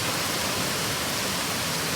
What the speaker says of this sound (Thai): ดูสิครับสายฝนไม่ขาดสายเลยครับ